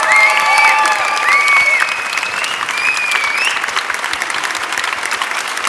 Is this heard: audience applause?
yes